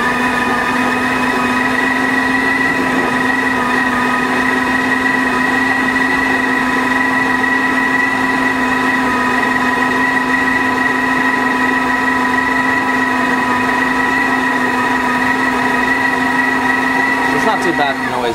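A Breville Oracle espresso machine's built-in grinder doses and tamps coffee into the portafilter with a steady, loud motor whine that stays even throughout and cuts off near the end.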